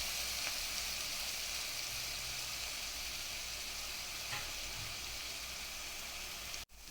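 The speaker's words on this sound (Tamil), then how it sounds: "வெங்காயம் நல்லா வதங்கட்டும்." Grated onions sauté in oil in a pan for a paneer butter masala gravy, giving a continuous soft sizzle at a steady level with a couple of faint utensil taps and a sharp click at the end.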